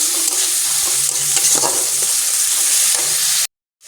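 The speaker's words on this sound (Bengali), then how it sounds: "দেখো, মশলাটা ভালো করে কষা হয়ে গেছে ধনে পাতার সাথে" Spice paste with coriander leaves sizzles steadily in a pan while being stirred, with scraping strokes over a continuous bright hiss. Close and loud, no talking, ending abruptly.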